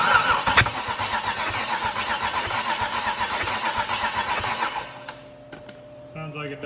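An LS 6.0 V8 with no spark cranks hard for about five seconds, a loud, rapid rhythmic churning of the starter that never catches, then cuts off, leaving faint clicks and a brief electronic tone.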